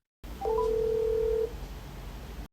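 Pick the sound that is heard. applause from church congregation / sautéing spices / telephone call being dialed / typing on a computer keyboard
telephone call being dialed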